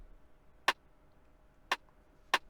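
Three sharp, dry rim clicks from FL Studio stock plugins, each short and woody, spaced about a second apart over near silence.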